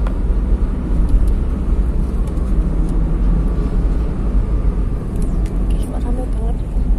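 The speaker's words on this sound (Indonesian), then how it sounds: "Ada ini loh, guys, ada truk gandeng ini." A trailer truck rolls along a busy road, its steady engine and tire roar blending into continuous heavy traffic noise with no clear break.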